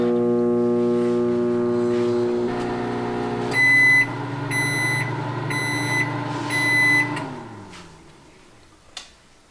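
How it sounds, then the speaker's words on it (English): A microwave oven heating food hums steadily with a low drone, then a series of loud beeps sounds in evenly spaced bursts before the hum winds down. "Next, we're going to microwave it."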